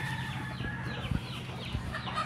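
Several chickens clucking nearby in short overlapping calls over a steady outdoor background at a pig farm.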